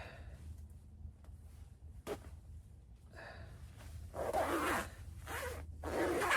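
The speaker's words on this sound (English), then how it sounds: "I don't know why it won't work until it gets about 4 inches up the zipper" A coat zipper that sticks partway is tugged and pulled in several rasping bursts, the zip strokes growing louder and longer toward the end, close up with breathing.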